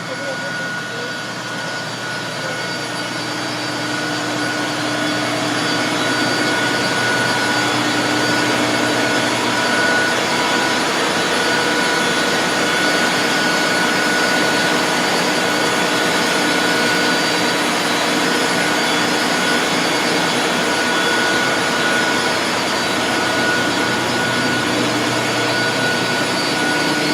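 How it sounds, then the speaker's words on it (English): A loud, steady generator roar at a farm digester, with a constant hum and whine, drones on without a break, close by and filling the space. "So that's the actual generator right there."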